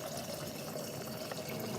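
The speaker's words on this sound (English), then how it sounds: "I'm gonna add a little bit more water." Water poured into a pot of cooking oats, a quiet steady trickling splash that runs the whole time with no talk.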